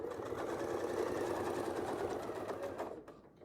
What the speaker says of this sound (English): I'm going to sew right into the top here